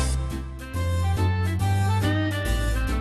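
Smooth foxtrot intro 2 pattern on an Elite EX/EY electronic organ: full sustained chords over a deep bass line with steady rhythmic pulses, loud and continuous.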